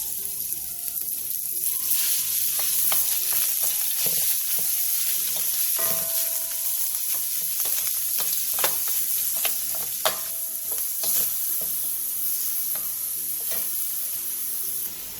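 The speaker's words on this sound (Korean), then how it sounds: "냄비에 참기름 2스푼과 소고기 양지를 넣고 중불에서 소고기의 겉면이 익을 때까지만 볶아주세요" Beef brisket sizzles and crackles steadily in hot sesame oil in a pot over medium heat, with occasional scraping and stirring sounds from a utensil, close and continuous.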